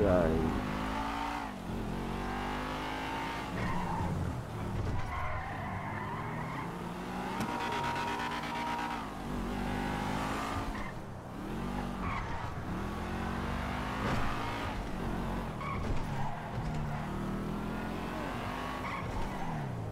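A car driven in GTA V revs, accelerates and skids with tire squeals, its engine pitch rising and falling repeatedly over twenty seconds while someone talks throughout.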